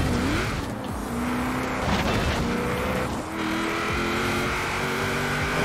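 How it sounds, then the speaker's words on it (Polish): A Chevrolet Impala engine in Forza Horizon 4 revs loudly and steadily, its pitch climbing and dropping through gear changes as the car accelerates toward top speed. "Dźwięk dla moich uszu."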